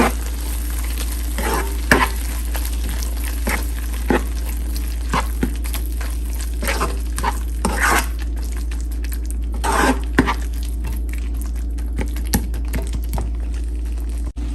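A drumstick fry mixture with garam masala is stirred and fried in a pan, a steady sizzle broken by frequent sharp scraping and tapping strokes of the spoon against the pan.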